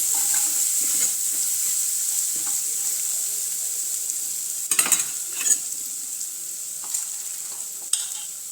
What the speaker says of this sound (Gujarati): મેં હળદર અને ગરમ મસાલો ઉમેરી લીધું છે તેને સરસ રીતે સાતળી લઈશું.